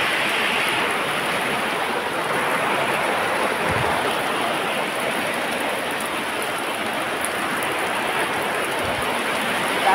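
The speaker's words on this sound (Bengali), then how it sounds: "বাইরে বৃষ্টি হচ্ছে তো প্রচুর" Heavy rain pouring down outside a house, a loud, continuous hiss of falling water that stays even and unbroken throughout, with no voices.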